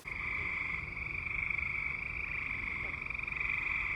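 A frog croaks in a steady, continuous trill that runs unbroken for the whole stretch, fairly soft and even, with no voices.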